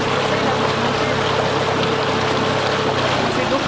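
An outboard motor on a shallow, muddy river with a scratched propeller drones loudly and evenly, a constant broadband rumble mixed with rushing water throughout, with no voices.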